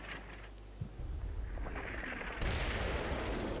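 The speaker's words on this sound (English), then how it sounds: "The enemy artillery seems to have a very, very long breath." Enemy artillery fire in the war game Combat Mission: Shock Force 2 lands as a low, rumbling barrage, with a dull thump near the start and a heavier, denser burst of rolling impacts in the last second, all over a steady high-pitched insect-like drone.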